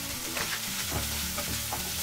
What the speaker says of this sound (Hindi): ऑनियन को कलर चेंज होने तक अच्छी तरह से फ्राई कर लेती हूँ।